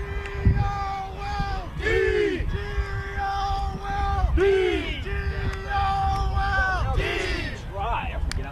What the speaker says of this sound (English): After a point is scored, team members will do chants and other various acts to keep morale high and things exciting on the field.